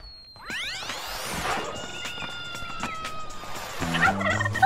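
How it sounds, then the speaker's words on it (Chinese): A turkey gobbles loudly in a quick rattling burst, followed by squeaky cartoon-like whooshes and musical tones in a kids' show setting. "看呐，一只火鸡！"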